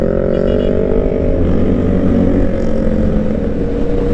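A Bristol SRK 400 motorcycle engine runs smoothly at a steady pitch, loud and continuous, with a low rumble throughout.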